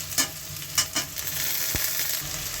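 Potatoes fry with onions, turmeric and salt in a pan, giving a steady close sizzle broken by a few sharp stirring scrapes and clinks.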